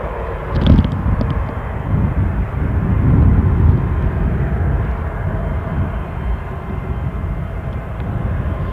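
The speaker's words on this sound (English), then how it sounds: "as we watch this incoming Embraer 190 taxi to the terminal" An Embraer 190 airliner taxis to the terminal at Newcastle International airport, its engines a steady low rumble with a brief louder swell near the start, heard without talk.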